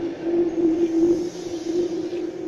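Sydney Tangara electric train pulling away from a station, a steady close motor hum with a sustained tonal whine and faint rolling rumble, with no talking.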